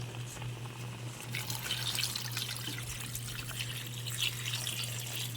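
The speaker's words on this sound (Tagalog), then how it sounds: "ako na nambutangan og tubig" Water pours in a steady, continuous stream, a close hissing splash with a faint low hum underneath and no voices.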